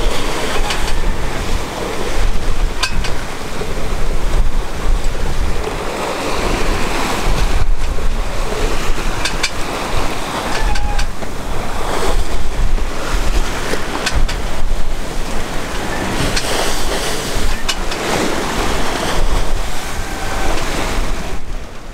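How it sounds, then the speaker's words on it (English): A sailboat under mainsail pushes through ocean waves on an overnight passage as the wind comes round on the bow. Continuous loud wind rush and close splashing surf fill the whole stretch, with no talking. "As the wind came round on the bow, I tightened up the main, hoping to keep us powering through the waves."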